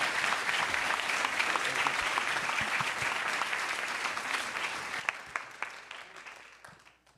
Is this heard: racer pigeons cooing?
no